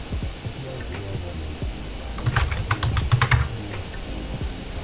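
A short burst of keystrokes on a computer keyboard in a terminal session, with a handful of clicky taps clustered midway over a steady background hum.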